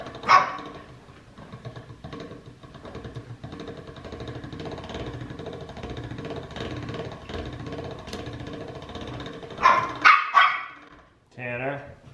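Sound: dog barking

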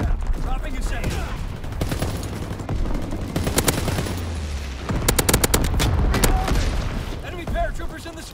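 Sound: anti-aircraft gunfire in a war video game

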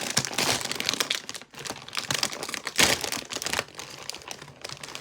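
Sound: bag of Ruffles potato chips being opened

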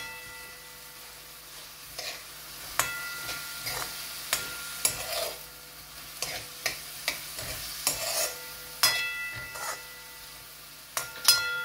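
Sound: tomatoes and spices sizzling in ghee in a pan for dal tadka

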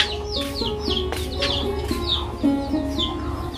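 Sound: hens and chicks entering the house

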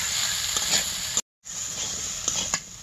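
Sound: potatoes and eggplant frying in a pan

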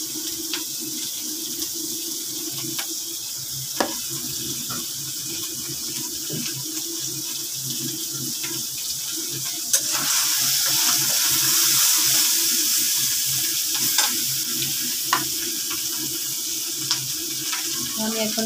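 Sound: oil poured into a hot wok, then sizzling

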